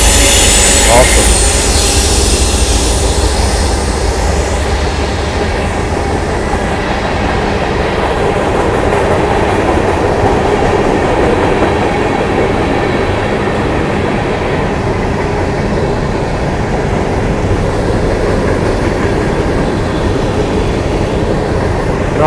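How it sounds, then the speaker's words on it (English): CSX freight train passing along a railroad near Harpers Ferry, WV: a loud, continuous rumble and rattle of rolling cars held for the whole stretch, with faint wheel noise and no talk. "we're going to see some CSX engines coming up here just in a second."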